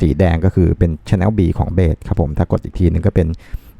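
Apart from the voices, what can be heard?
No everyday noises stand out.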